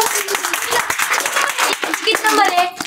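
Schoolchildren clap together at a government-school free class where first test results are read out, a dense, continuous patter of many small hands that holds steady for about three seconds.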